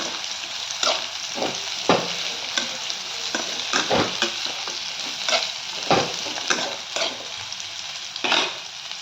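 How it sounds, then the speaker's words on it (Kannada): Crushed garlic and bitter gourd fry in hot oil with a continuous close sizzle, punctuated by repeated scraping stirs of a spatula against the pan. "ಇನ್ನೂ ಫ್ರೈ ಆಗ್ತದೆ ಬೆಳ್ಳುಳ್ಳಿ"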